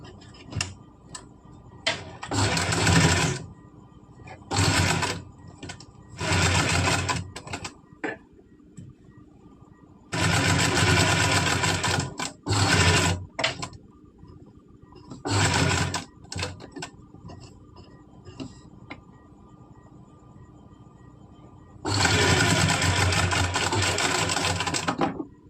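A sewing machine stitches a kurti collar in several bursts of steady mechanical rattling, some short and some long, with quiet pauses between them and no talking.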